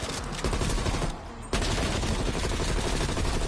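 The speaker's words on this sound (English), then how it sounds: "I'm shooting the big guy as well." Sustained automatic gunfire in Call of Duty Cold War Zombies, loud and dense, breaking off briefly once before resuming as a continuous rapid stream of shots.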